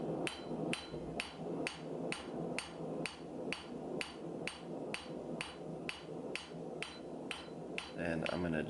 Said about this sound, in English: this is a 2 1/4 rounding hammer, so 2 1/4 pound rounding hammer with a 170 pound Trenton